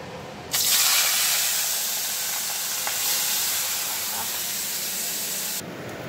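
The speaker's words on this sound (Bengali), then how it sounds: "তেল গরম হয়ে গেছে, এবার মাছগুলো ভেজে নিই না।" Fish pieces hit hot oil in a home kitchen pan, setting off a sudden steady hiss and sizzle that runs for about five seconds before stopping.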